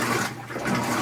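A high efficiency washing machine in drain mode, water rushing and gurgling loudly and close by in a continuous whoosh.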